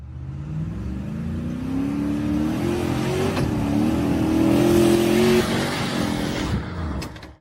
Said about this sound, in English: The gray and black off-road vehicle raced through the mud pit and accelerated up the grassy hill